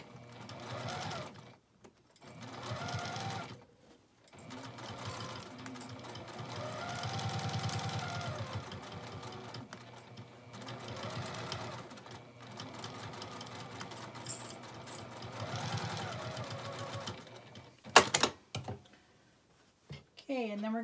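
A sewing machine stitching the inside seam of a small fabric basket, its motor whirring in repeated bursts of steady needle chatter with short pauses between runs, fairly close, with a clack near the end.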